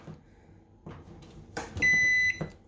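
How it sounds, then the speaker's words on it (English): A Magic Chef microwave oven that had suddenly lost power gives a steady electronic beep lasting about half a second after some faint clunks and handling noises up close. "So that beeping noise was not my watch, it was not my phone, it was this bad boy right here."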